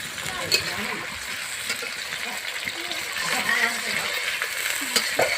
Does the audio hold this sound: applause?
no